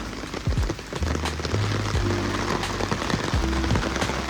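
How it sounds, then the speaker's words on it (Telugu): Heavy monsoon rain pours down in a Mumbai residential society, a dense, steady patter with scattered close drips and taps, and a low hum beneath it, with no one speaking. "చూడండి వర్షం ఎంత ఉధృతంగా వస్తున్నా"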